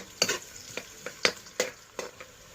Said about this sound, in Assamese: পিঁয়াজ ৰঙা হোৱাকৈ ভাজি ল'ম, তাৰপিছতে মই মাংসখিনি দি দিম।